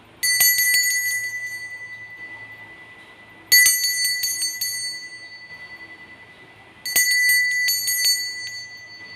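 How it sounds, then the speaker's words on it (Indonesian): A small bell rings in three separate bursts, each a quick cluster of bright metallic dings that rings on and fades before the next, clear and close over a quiet background. "kita langsung saja memulai dengan hasil ramalan ini dengan lonceng berbunyi"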